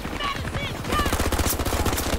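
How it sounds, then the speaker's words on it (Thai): Battlefield 2042 gunfire: a continuous, rapid stream of automatic shots rattling steadily under faint chatter and a few higher tones, sustained throughout. "ฝั่งนู้นก็ยิงกันไม่หยุดเลย"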